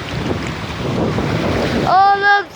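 Sea water and waves rush and churn close by while someone swims, a loud wind-buffeted wash that drops off near the end as a voice calls out.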